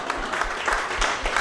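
A comedy club audience claps in a steady, moderately loud patter for a brief moment, with no talking over it.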